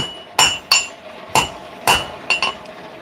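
A smaller hammer strikes hot steel while forging out a dagger tang, giving six sharp metallic clinks in an uneven rhythm, close and loud with short ringing decays.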